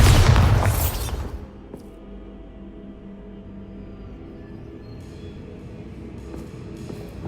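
A Bombarda explosion spell in Hogwarts Legacy bursts with a loud boom that fades over about a second into a low rumbling tail and quiet ambience.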